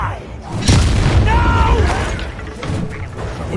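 Fiery spell blasts from the Hogwarts Legacy video game, a booming burst with crackling debris and a whooshing magical tone, loud and close, with a voice calling out over it.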